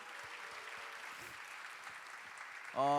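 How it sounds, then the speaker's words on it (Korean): An audience at a university student fellowship talk show applauds two new-family leaders, a soft continuous patter of clapping in a large room before a voice breaks in at the end. "박수하겠습니다"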